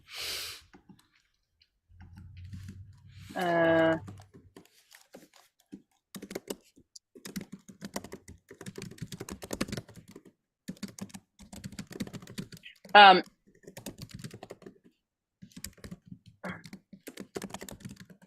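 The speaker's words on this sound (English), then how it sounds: "So I have to tell you about a thing after I finish typing the sentence." Fingers tap steadily on a computer keyboard in quiet bursts, broken by a few louder clicks and a sharp knock, with soft breathing and no talking.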